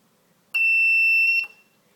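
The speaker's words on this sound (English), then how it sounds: "This is our new circuit, and this is transistor buzzer circuit." A single transistor buzzer circuit sounds once for about a second, a shrill steady high-pitched tone that starts and stops abruptly against quiet.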